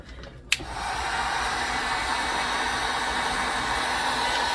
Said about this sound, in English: take the heat gun